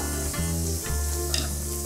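Food being stirred in a hot pan while preparing vegan pizza, with a spoon scraping and clinking against the pan over a steady close sizzle and no talking.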